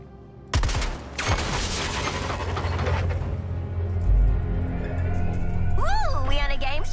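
Gunfire aimed at a junction box in the Suicide Squad game: a loud burst of shots opens, followed by a steady rumbling barrage with booms, and voices chatter over the end.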